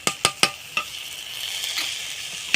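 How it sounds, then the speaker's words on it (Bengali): A spatula stirs ground fish spice masala and sauce frying in a pan: a few sharp scraping clinks come close together at the start, then a continuous light sizzle carries on. "এবার ভালো করে আমি মশলাটাকে নেড়ে চেড়ে ভাজা ভাজা করে নেব একটু"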